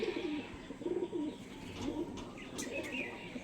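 Pigeons of fancy breeds coo in soft, repeated low phrases, with a few brief chirps from other birds over a steady background hum.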